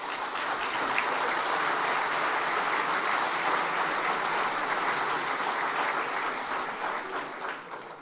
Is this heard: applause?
yes